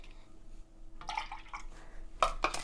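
Milk poured into a jug of water for naan dough, a brief soft splash followed by a couple of clinks of the jug, faint and close with no voices.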